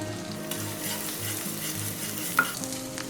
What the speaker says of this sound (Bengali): এবারে তেল গরম হয়ে গেছে পেঁয়াজগুলো দিয়ে দেবো